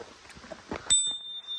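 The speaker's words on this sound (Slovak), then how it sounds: "Ešte aj zvonček má s kompasom" A bicycle bell fitted with a compass gives a single bright ring that hangs on with a sustained metallic tone, heard fairly close after some faint rustling.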